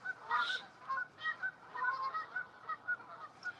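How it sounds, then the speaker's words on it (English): Geese honk repeatedly at a moderate distance, a rhythmic series of nasal calls, sometimes overlapping, over a quiet background. "Y'all hear all them geese?"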